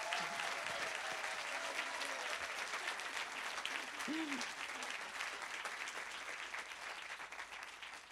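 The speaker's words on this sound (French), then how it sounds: "Vous pouvez l'applaudir très très fort." An audience at a conference opening applauds steadily for several seconds, a dense continuous patter of clapping with faint voices mixed in.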